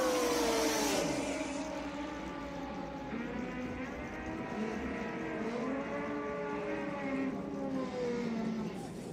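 Kawasaki drag racing motorcycles staged at the Fuel Tech World Finals, their engines revving with droning, rising and falling tones that hold loud and steady throughout.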